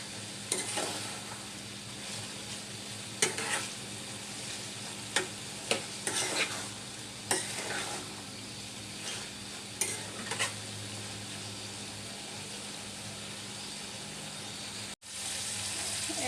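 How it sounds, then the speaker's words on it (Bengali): Ripe sweet pumpkin frying in a pan, with a steady soft sizzle throughout and a few sharp stirring scrapes and clinks, close and moderately loud, no talking. "আমার মিষ্টি কুমড়া ভাজা হয়ে গেছে"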